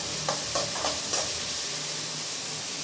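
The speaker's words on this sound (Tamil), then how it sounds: "கொஞ்சம் நல்லா செவக்க வதக்கி விட்டுக்கலாம்" Shallots and onions sauté in a pan for dry fish curry, a steady close sizzle broken by a few quick stirring scrapes early on, with no voices.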